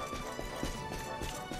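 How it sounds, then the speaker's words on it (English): Horse hooves gallop in a steady clip-clop rhythm during a horse race in the video game Dragon Quest XI, loud and continuous over game music. "We're about to go horse racing"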